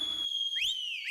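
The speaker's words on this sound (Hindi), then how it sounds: "सीटी।" A shrill whistle blows in short rising chirps, loud and close, with a steady high tone and a couple of quick upward swoops.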